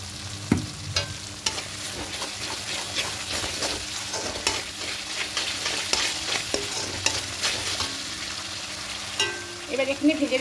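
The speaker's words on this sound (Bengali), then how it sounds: "যতক্ষণ পর্যন্ত মশলা থেকে তেল না ছাড়ছে ততক্ষণ পর্যন্ত মশলাটাকে কষিয়ে নিতে হবে।" Spice paste for a potato and pointed gourd curry being fried and stirred in a pan: a steady sizzle under repeated scraping strokes of a spatula, close and moderately loud.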